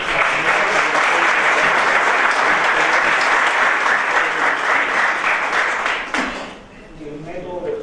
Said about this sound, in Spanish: quiero pedir un aplauso a los señores Izaza